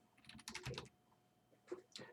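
Short bursts of typing on a computer keyboard during a math class review session, quick clusters of keystrokes separated by a pause, fairly faint and close, with a little background voice.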